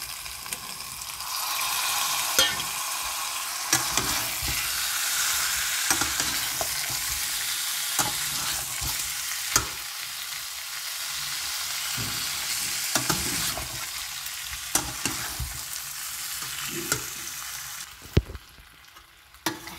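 Green peas are stirred into a simmering, fried-down potato curry, a steady sizzle under repeated scraping and clinking of a spoon against the pan over about twenty seconds, fading at the end.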